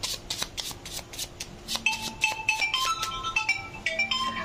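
A phone ringtone plays a bright melodic chime through the second half of a tarot reading, over soft, steady card-shuffling and handling noises.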